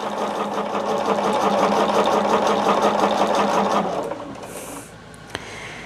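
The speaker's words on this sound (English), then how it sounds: "So I'm just keeping sewing" A sewing machine runs steadily as quilt pieces are chain-stitched two at a time, a loud continuous mechanical whir for about four seconds before slowing and stopping, followed by a small click.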